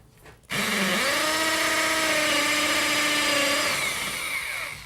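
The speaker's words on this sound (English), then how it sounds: "Well, I'm going to try my drill." A power drill starts up after a short quiet moment, then runs at a loud, steady whine for about four seconds before its pitch shifts slightly and it winds down.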